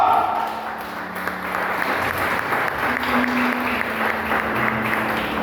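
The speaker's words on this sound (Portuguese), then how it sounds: "Você pode aplaudir o Senhor?" A church congregation applauds during a missions service, a steady crowd of clapping at moderate level with a faint sustained tone underneath.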